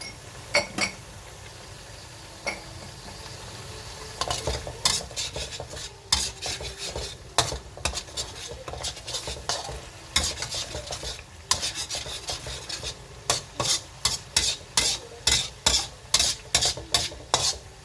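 Onions fry in a pan for a homemade chicken curry while a utensil stirs them, making repeated scraping strokes over a soft sizzle; the strokes grow quicker and more rhythmic toward the end.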